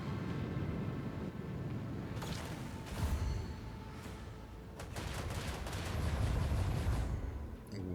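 Torpedo strikes in Warhammer 40k Rogue Trader's ship battle, a series of heavy booming impacts and rattling bursts in quick succession over a rumbling background, with no talk.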